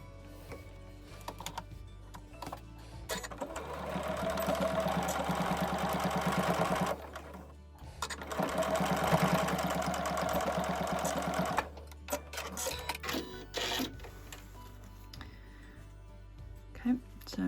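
A sewing machine stitches binding onto a zippered fabric pouch in two sustained, steady runs of rapid needle chatter, with a brief pause between them and quieter handling noises toward the end.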